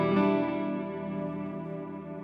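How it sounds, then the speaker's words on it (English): Electric guitar through a Dark Matter reverb pedal set very washy, a sustained chord blooming into a dense shimmering wash with a super long decaying trail, heard alone and up close. "This is Dark Matter. It is a reverb,"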